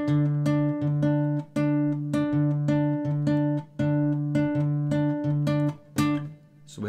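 A plucked guitar pattern playing a three-against-four polyrhythm, sustained low notes and regular higher accents, two rhythmic layers interlocking steadily over several seconds, with no voices.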